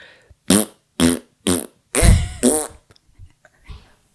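A rapid series of five separate fart-like bursts at different pitches, evenly spaced and close, followed by a quiet pause and faint trailing sound; likely a voice imitating the fart during a podcast.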